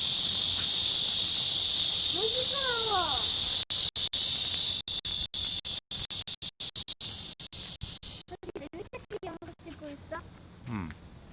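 Cicadas sing in a loud, shrill, continuous drone that later stutters on and off, with a voice briefly heard.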